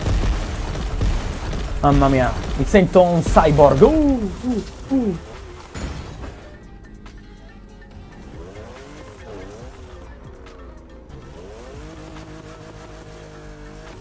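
A car launches hard in the racing game The Crew Motorfest, its engine revving and tires squealing loudly for a few seconds before fading into quieter engine hum, with an excited voice talking over it.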